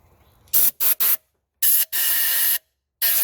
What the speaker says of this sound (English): you want to get some compressed air and spray it in here